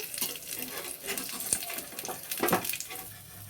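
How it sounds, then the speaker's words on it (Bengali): Fish omelette frying in a pan, a soft close sizzle with a few scrapes and light utensil taps, no voices. "একটা পিঠ ভালো করে ভাজাটা হতে দাও, তারপরে আমরা আবার উল্টে দেবো।"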